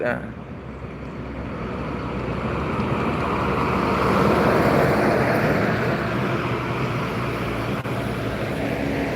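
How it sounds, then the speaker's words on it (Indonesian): A tanker truck passes along a road, a broad rumble swelling to a peak near the middle and then easing off, with steady traffic noise around it. "Ada truk tangki 1 unit."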